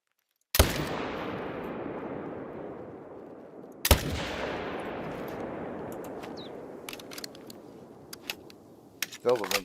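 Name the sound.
gunshots from a hunting video game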